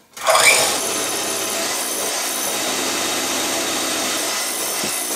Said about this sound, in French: c'est le moment le plus bruyant de la séance, le moment où bien évidemment j'utilise le batteur